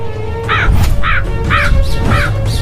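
Cartoon crows caw harshly while pecking at someone, five evenly spaced loud caws over a steady low background rumble.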